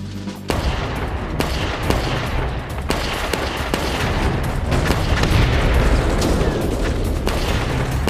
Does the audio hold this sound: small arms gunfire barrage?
yes